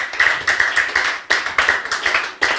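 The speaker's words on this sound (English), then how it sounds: "I think we should give a round of applause to Ito and Girls." A small group at a school awards event claps in short uneven bursts, close and fairly loud, with the claps bunched into quick rhythmic runs and brief pauses between them.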